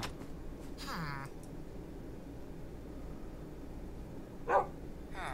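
A pet dog in Minecraft gives a couple of short barks, one early and one near the end, over a low background hum.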